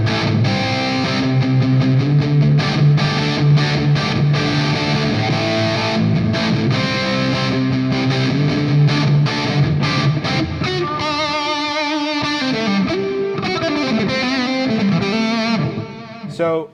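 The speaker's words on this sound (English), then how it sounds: "put a little delay and reverb on that too" Distorted riffing on a Fesley FST-350M electric guitar through Soldano-style gain, now washed in delay and reverb, shifts from chugging chords to ringing single-note lines whose echoes trail off before a final cutoff.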